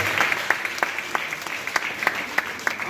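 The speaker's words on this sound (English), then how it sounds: "So we give them another round of applause." An audience gives a round of applause, a fairly close, steady patter of many hands with a few sharper individual claps standing out in a loose rhythm.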